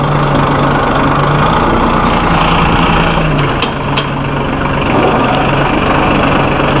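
Massey Ferguson 1740E Synchro-Shuttle compact tractor, 38.5 engine horsepower, driving in high range and shifting gears, a loud, close, steady diesel engine drone with slight dips in pitch and load.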